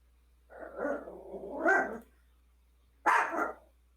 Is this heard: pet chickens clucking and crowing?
no